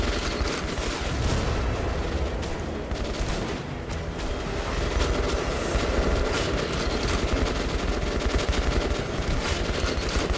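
Sustained rapid gunfire and explosions from the video game Metro Last Light, shooting at the wheels of a Nazi tank during the final battle, forming a dense, continuous barrage with no talk.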